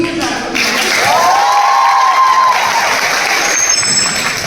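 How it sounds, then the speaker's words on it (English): A crowd at a college carnival event in an auditorium claps for guests, a dense, sustained wash of applause heard from within the audience, with a faint tonal whine running through it. "Again, please welcome some huge round of applause."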